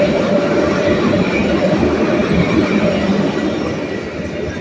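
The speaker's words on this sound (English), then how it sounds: "there's 2 trains going by" Two trains pass close by in a loud, continuous rail rumble with wheel grind that eases slightly toward the end, and no voices.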